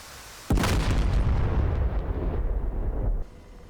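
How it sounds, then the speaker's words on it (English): A ground target blows up after an AH-64D Apache attack helicopter strike in DCS World, a sudden heavy boom that rumbles on for nearly three seconds before cutting off, loud and close. "I kind of would like to see that explode."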